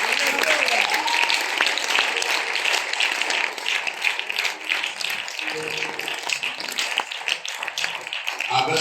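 A church congregation applauds the Lord, with steady, dense clapping from a crowd that fills the room, mixed with voices throughout.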